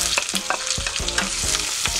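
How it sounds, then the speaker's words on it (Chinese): Scallion, ginger, garlic and chili stir-fried in hot oil in a wok, steady sizzling with rhythmic spatula scrapes and clanks every half second, close and loud with no talking. "把这个葱姜蒜还有辣椒我们拿去爆一下锅"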